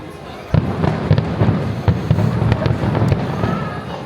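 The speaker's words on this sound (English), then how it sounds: "we're currently leaving the park and Disneyland have got their fireworks going" Disneyland fireworks display heard from a distance while leaving the park, with repeated booms and crackling bursts in an irregular rhythm over a murmuring crowd background.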